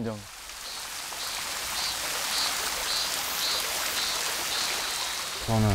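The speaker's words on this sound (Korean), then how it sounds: "저기 물 흐르나?" Steady rushing of water flowing in a stream during an outdoor nature trip in Pocheon, a continuous even wash with faint high chirping above it and brief voices at the very start and end.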